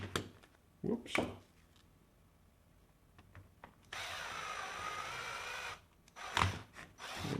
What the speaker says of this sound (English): Take your drill.